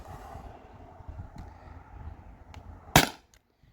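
A Beeman BP50 air pistol fires a single sharp, loud shot through a chronograph, a close crack near the end that follows a quiet low rumble of background noise.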